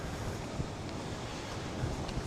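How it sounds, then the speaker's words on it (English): Warm, strong wind gusting across a beach at Jandia Playa, Fuerteventura, a steady broadband roar of wind buffeting the microphone with faint surf beneath, continuous and close throughout. "It is a very windy day."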